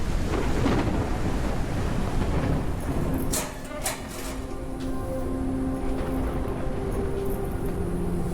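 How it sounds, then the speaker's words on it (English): Storm wind in the survival game Forever Skies, a loud, steady roaring gust with rushing noise throughout, dipping slightly midway while faint creaks and metallic rattles come and go. "Thing with a storm is it gets a little bit rickety-rickety."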